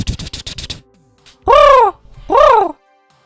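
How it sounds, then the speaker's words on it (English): Two loud, drawn-out crow caws close by, the first preceded by a rapid typewriter-like clatter, with a quiet gap between the calls. "Crow"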